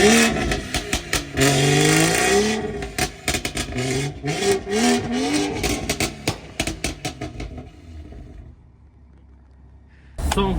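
A BMW M240i's B58 engine revs hard several times through a Scorpion aftermarket exhaust with a deep, raspy note, then drops to a low idle before a final short blip.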